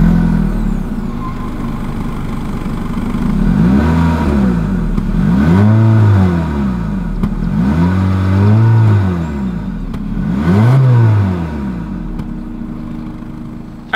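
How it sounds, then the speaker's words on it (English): A 2025 Honda HR-V small SUV revving its engine through the exhaust, with four rising and falling rev sweeps over a steady idle, loud and close with no talking. "As always, here is that exhaust clip."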